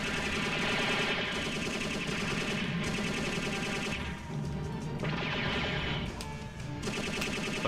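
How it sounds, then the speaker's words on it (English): Missiles and weapons firing in the video game Robotech Battlecry, a dense, loud, continuous barrage of rapid blasts and explosions with brief dips in intensity. "Oh man, there's missiles everywhere!"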